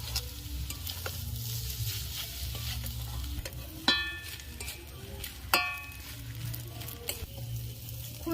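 Maggi noodles frying in a pan with masala, stirred with a metal spatula: a soft steady sizzle under repeated scraping strokes and two sharp clinks of the spatula against the pan.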